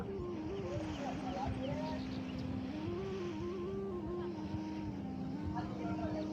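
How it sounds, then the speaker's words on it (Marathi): A speedboat runs fast across the water at Ganpatipule on the Konkan coast, its engine holding a steady, continuous drone with shifting pitch throughout, while voices talk over it. "त्या स्पीड बोटवर बसता जोरात पळतली ती स्पीड बोट"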